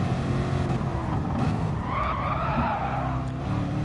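A race car in Gran Turismo Sport at Laguna Seca spins out, its tires skidding and squealing continuously over engine noise throughout.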